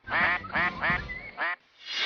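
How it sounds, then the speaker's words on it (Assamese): Ducks wade through a deeply muddy national highway in Hailakandi, Assam, giving a close, loud run of four raspy quacks, then a short pause before another begins. "বাহন নহয়, বোকাত হাঁহৰ প্ৰচেছত।"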